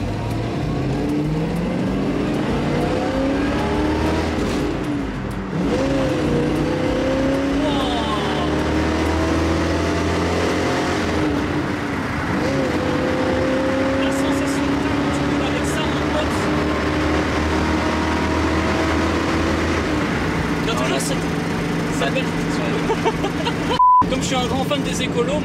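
A Ford Mustang Mach 1 muscle car pulls out onto a main road, its V8 engine note climbing and falling through rising revs under people talking inside the cabin.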